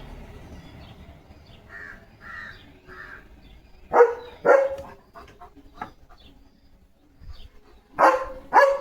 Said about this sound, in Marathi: लिओ गाड्यावाल्यांना घाबरवतो काय घाबरतील ना तुला